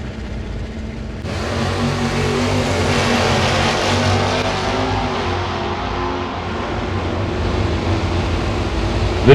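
A Camaro and a Nova, both classic small-block Chevrolets, launch in a drag race at a strip, with loud engine roar rising abruptly and holding steady, somewhat distant.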